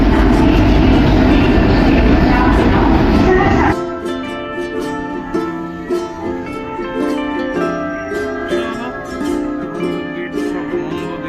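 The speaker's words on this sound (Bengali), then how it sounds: "আমাদের ট্রেন ঢুকছে 13177। শিয়ালদা জঙ্গিপুর মেমু।" A Sealdah–Jangipur MEMU commuter train, number 13177, pulls into a station: a loud low rumble and roar that abruptly drops, giving way to a lighter rolling clatter with squeaking and ringing tones as the train slows.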